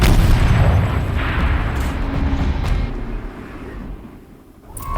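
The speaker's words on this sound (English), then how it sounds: "Rotate turret! And fire!" Heavy turret cannon fire from a machine in Horizon Zero Dawn: a loud booming blast at the start, then a rumbling roll that slowly fades, with a fresh burst of noise near the end.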